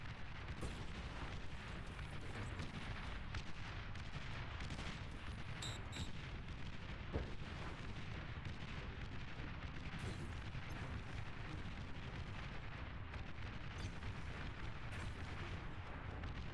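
A chain reaction of explosions in a video game: dense, continuous rumbling booms and blasts roll on for the whole stretch at steady loudness, with no talk over them.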